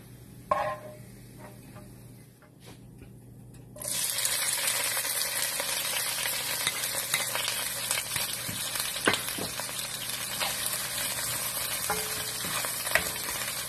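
Garlic-fried food for a sizzling pork chop and java rice meal crackles loudly in a pan after a quiet start, with a steady sizzle and occasional stirring clatter, close and without talk.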